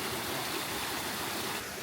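A small waterfall in a forest near Melbourne, a steady close rush of falling water, broadband and unbroken, with no voices over it.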